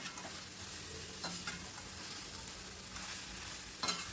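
Egg and soybean stirred and fried over a high flame, a steady broadband sizzle running throughout with occasional spatula scrapes against the pan, close and continuous.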